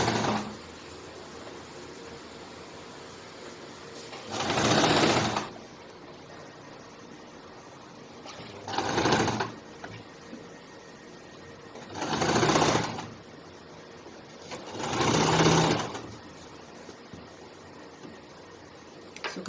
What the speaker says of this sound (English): So I'll keep sewing it all through.